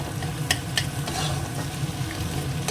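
Steady sizzling of eggs frying in a pan, with a spatula breaking, stirring and tapping against the metal a few times, close and continuous.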